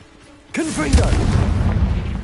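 Confringo fire curse explosion in Hogwarts Legacy, a sudden loud booming blast that rolls into a rumbling roar, with a voice over the start.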